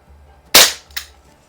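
A Crosman Vigilante .177 CO2 revolver fires pellets in two sharp, loud cracks about half a second apart, close by in a quiet setting.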